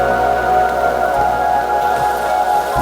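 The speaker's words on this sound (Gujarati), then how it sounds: "એ વરસાદ છે ને હવે આપણા વિસ્તારની અંદર ચાલુ થઈ ગયો છે" Heavy monsoon rain pours down in the Chhota Udepur area, a steady, close, dense hiss of drops on surfaces with a faint low hum underneath and no talking.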